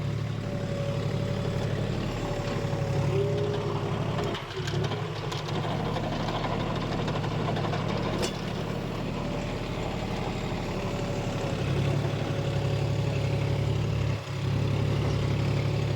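A John Deere 5050 D 4x4 tractor pulls a rotavator in a field, its diesel engine droning steadily and loudly throughout, with a continuous low rumble and mechanical chatter that dips briefly now and then.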